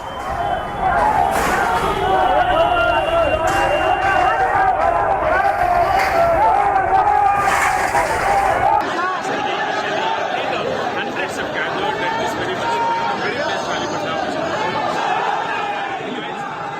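A crowd of protesting young Muslim men causes a commotion while police try to calm them: dense, loud shouting and babble that runs without a break, with many voices overlapping.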